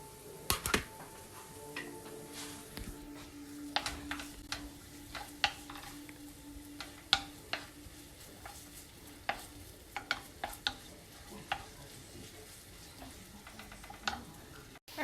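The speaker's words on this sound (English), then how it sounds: "You hear that sizzle?" Onions sizzling in a pan, a faint, steady frying hiss broken by light crackles and occasional utensil taps, heard alone without talk.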